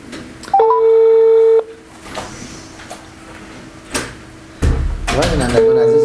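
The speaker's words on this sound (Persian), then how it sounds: "به هر صورت تماس میگیریم و گوشی رو بلند میکنیم، بلندگو یکی تلفن رو میمونیم." A telephone dialing a call on speakerphone, with a steady tone and a run of keypad beeps at the start, then more beeping and a held tone near the end, under background noise and clatter.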